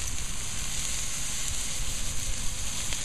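Pork loin chops sizzle on a grill, a steady, close crackling hiss that holds evenly throughout with no voices.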